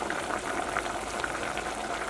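Potato curry boiling in a pot, a steady close bubbling and gurgling with small pops, continuous and even throughout.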